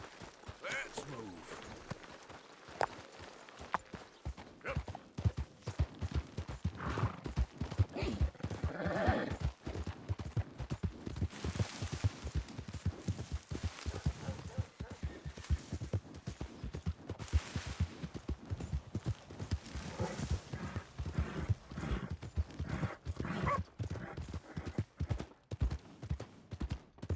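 Horse hooves in a video game clip-clop in a fast, dense run of hoofbeats that goes on and on, with a neigh and bursts of gunfire mixed in, and voices speaking now and then over the action.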